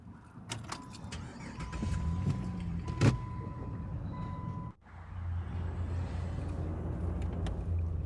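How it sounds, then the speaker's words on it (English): A car engine starting: a brief electronic chime plays, then the engine cranks, pauses, and catches into a low, steady idle that runs to the end, close by and clear, with no talk. "I need you to start the car and get us out of here."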